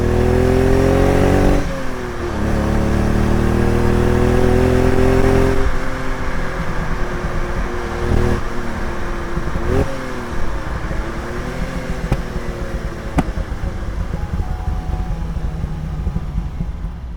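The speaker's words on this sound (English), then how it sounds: "The engine in this car is a 2-litre V6 quad cam" Fiat Dino Spider with a 2-litre quad-cam V6 accelerates hard on a damp morning, its engine note rising loud and close through several gear changes, revving and dropping repeatedly.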